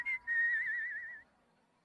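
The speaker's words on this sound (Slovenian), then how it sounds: "rad žvižgam med delom." A cartoon pony character whistles while working, a bright wavering tune that holds one long note after a short opening phrase, then ends, followed by a brief closing sound.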